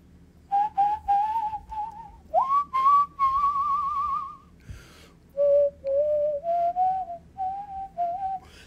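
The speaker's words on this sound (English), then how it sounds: "The dogs don't care when I whistle" A person whistles a wandering tune of sustained, slightly sliding notes in several phrases with short breaks between them, clear and close on a live stream, with no talking.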